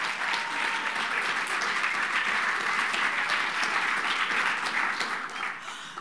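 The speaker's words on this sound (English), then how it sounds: "But we're gonna give you a round of applause for just the sewer mayor." A large audience at an outdoor charity gala program gives a steady round of applause, dense clapping holding at full strength for several seconds before starting to thin out near the end.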